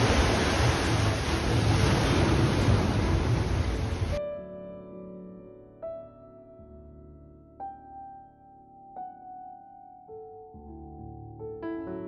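Sea waves at Dhanushkodi roar as a dense, loud rush mixed with wind buffeting the microphone for about four seconds, then cut abruptly to quiet background music.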